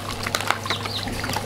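Water pours steadily to refill a shaded pool for farm animals, a soft continuous splashing and trickle with faint bird calls nearby.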